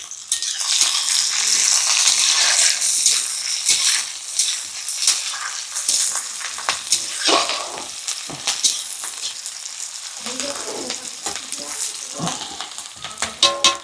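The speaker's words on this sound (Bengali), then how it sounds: "তারপরে পেঁয়াজটা দিয়ে দিই" Loud, close sizzling of onions frying in a pan, with frequent clicks and scrapes of stirring throughout.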